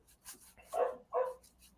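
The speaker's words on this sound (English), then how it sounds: "If you hear a dog barking, it's because one of my dogs went for a walk and he's back." Two quick dog barks, fairly faint and a little distant, with quiet moments around them and no talking.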